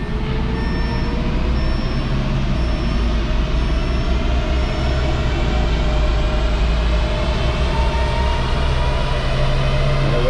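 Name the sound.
Audi S3 accelerating to 100 mph on a dyno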